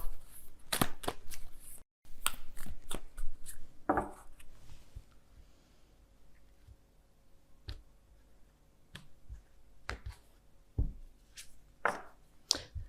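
Light oracle cards are shuffled by hand during a tarot reading, making sporadic sharp flicks and snaps, some loud and close, separated by quieter pauses with no voice.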